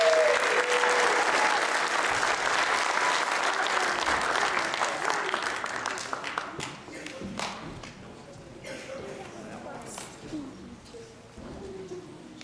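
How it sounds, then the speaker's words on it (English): An audience at a Cub Scout pack's Arrow of Light ceremony claps loudly for the scouts' ranks. The applause is full at first, then thins out and fades toward the end, leaving a few scattered claps and light room noise. "round of applause for our ranks"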